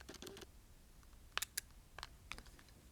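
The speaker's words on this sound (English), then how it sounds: "You can't hear anything other than the lens and the aperture opening and closing when you're shooting the photo." Faint, quiet mechanical clicks in small clusters, sharp and brief, from a Fujifilm X100T camera's lens and aperture moving while shooting, heard close against low hiss.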